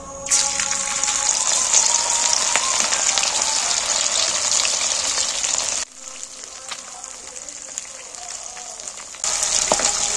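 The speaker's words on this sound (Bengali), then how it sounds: "এবার বাকি মাছগুলো দিয়ে দিচ্ছে তেলের মধ্যে।" Small mola fish fry in hot oil, a bright, steady sizzle that drops off sharply partway through and then returns loudly near the end.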